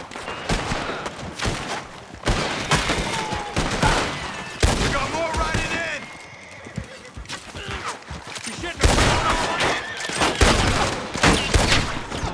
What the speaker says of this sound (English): Shoot him and loot him, boss!